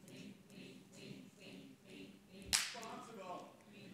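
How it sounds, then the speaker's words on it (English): A single sharp hand clap rings out in an audience at a theatre symposium, one loud crack after a stretch of quiet murmuring voices. "So you clapped."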